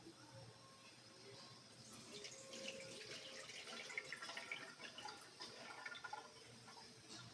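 Water trickles and splashes softly as it pours off soaked rice, faint and close, rising slightly toward the end.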